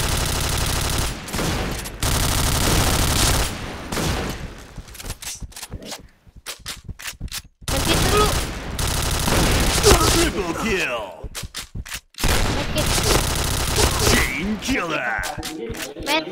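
Automatic-weapon fire in the shooter game Point Blank comes in loud rapid bursts separated by short pauses, with game voice announcements and a player talking between volleys.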